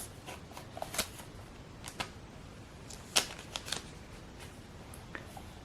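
Crinkly rustling and sharp plastic crackles of OnePlus Bullets Wireless 2 earphone packaging being unwrapped, a handful of brief close taps and tears over quiet room tone, no talking.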